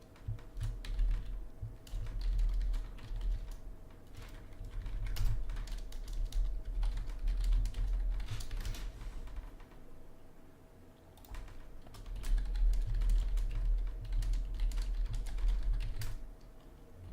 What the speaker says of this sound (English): I was just typing out to our next game